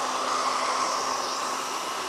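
A vacuum cleaner motor pulling suction through a DIY CNC vacuum tabletop runs under load, a steady, dense whooshing roar with a constant whine and no change in pitch.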